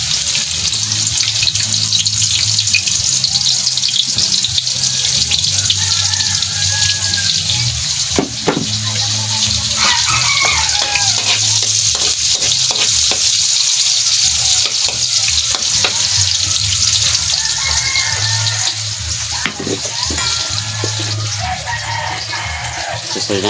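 Chopped onion and garlic fry loudly in a hot pan at a cooking spot, a dense continuous sizzle with a few clatters and stirring knocks throughout.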